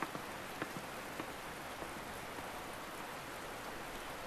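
Rain falls steadily in the Metal Gear Solid Peace Walker video game, a dense even wash of drops on surfaces with a few louder nearby splats. No voices are heard.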